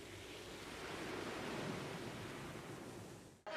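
Ocean waves wash steadily in a film scene where a body floats in the surf, a soft continuous roar of water that swells slightly midway and cuts off abruptly near the end.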